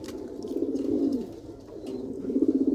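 Two white female Malwai pigeons cooing nearby in soft, low, throaty bursts that swell and fade repeatedly, with faint rustling in the background.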